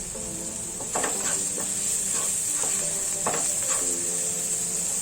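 Garam masala and coriander powder roasting in a pan on low flame, a soft steady sizzle with a few scraping stirs, close up and without voices.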